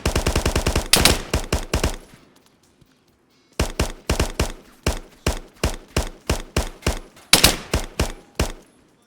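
Video-game gunfire in DayZ, with weapons shooting through building walls: rapid bursts of loud, close automatic shots, a brief pause, then steady repeated volleys and another dense burst.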